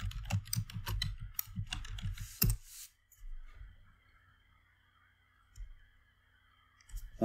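Rapid clicking keystrokes on a computer keyboard for about two seconds, close and crisp, followed by a near-silent stretch with only a faint steady hum and a couple of isolated soft taps.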